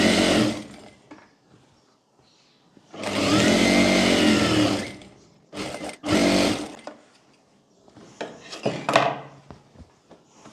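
A sewing machine stitches a baby girl's cargo trouser in two long, loud runs, then shorter bursts and stops between handling noises, with no talking.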